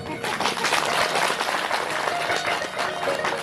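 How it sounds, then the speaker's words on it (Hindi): Audience at a Shrimad Bhagwat Katha religious discourse applauding, a dense, steady wash of many hands clapping close and loud for the whole stretch, with a voice faintly mixed in. "तभी तालियां बजी"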